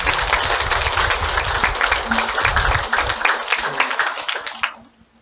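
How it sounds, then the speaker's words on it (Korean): An audience claps together at a temple ceremony marking a congregation's anniversary. The dense, steady applause is loud and close, thins out over the last second and stops. "박수 한번."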